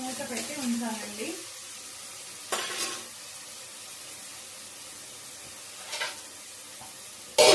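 Khichdi ingredients fry in a covered pan, giving a soft steady sizzle and hiss throughout, with a few brief louder bursts and a voice talking briefly at the start.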